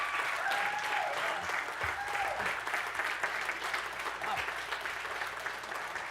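Audience applause after a speech at a parent institute leadership conference, sustained crowd clapping at a fairly distant, even level, with a faint voice briefly audible beneath it.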